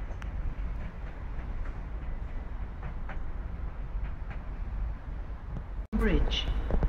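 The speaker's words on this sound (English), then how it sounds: "Leaving Redhill Station for Horsham. 377423." Southern class 377 electric unit 377423 pulling out of Redhill Station bound for Horsham, a steady broad rumble of wheels and traction with faint rail clatter throughout, ending in a brief gap followed by a sharper burst of noise.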